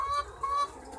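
Newly bought laying hens cluck on a farm, two short bursts of soft clucking close by with a quiet gap between them.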